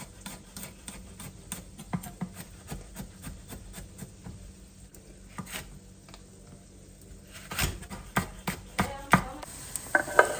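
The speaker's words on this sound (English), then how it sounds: "I don't want to grate it. I just want to kind of slightly thinly slice." A knife thinly slicing garlic on a cutting board: a quick series of light, crisp taps with short pauses, growing louder and sharper toward the end.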